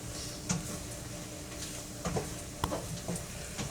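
Flour being stirred into sizzling bacon fat with shallots in a pan: a quiet, soft sizzle under repeated scraping strokes of a utensil that come in irregular bursts.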